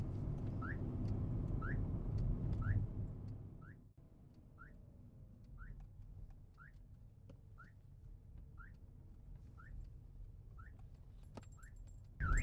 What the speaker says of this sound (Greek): Κάνει ήχο απ' έξω τώρα το αμάξι. Κάνει ηχητικά και μου ανάβει και τα flash.